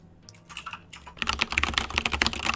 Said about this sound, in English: I was typing what?